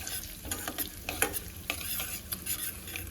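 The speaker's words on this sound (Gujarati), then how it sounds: "તલ અને વરિયાળી તેલ સાથે એકદમ સરસ સાંતળી લેશું।" Mustard seeds, cumin, white sesame and fennel crackle and sizzle in hot oil for a Gujarati bitter gourd curry, a steady close frying hiss broken by sharp pops and spatters, with no talking.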